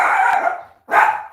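A small dog barks sharply and loudly, two close bursts separated by a brief pause, heard alone at close range.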